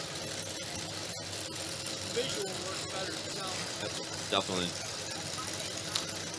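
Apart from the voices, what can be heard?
idling cammed V8 car engines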